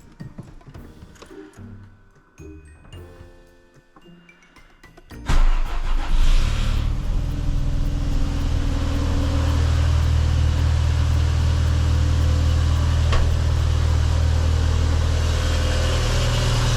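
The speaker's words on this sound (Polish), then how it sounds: "Zobaczymy jak odpala" An Audi A3 8L with the 1.8 engine cranks and fires after its battery is replaced with a Bosch S5, jumping from quiet clicks and rustle to a loud, steady idle that holds close and continuous.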